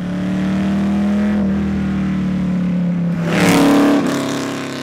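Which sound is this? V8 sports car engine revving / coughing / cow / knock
V8 sports car engine revving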